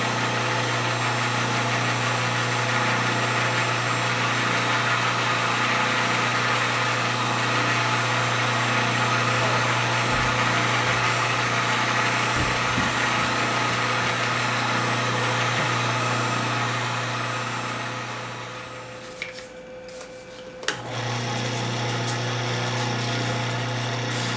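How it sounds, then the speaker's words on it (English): A heat gun's steady blower-like drone hums continuously with a constant tone, briefly dropping off near the end before resuming at the same level, while setting finish on wooden pens. "Using a heat gun helps to set the finish a little quicker."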